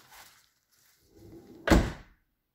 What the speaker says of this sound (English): So to see what the chrome used to look like, you can open the rear door.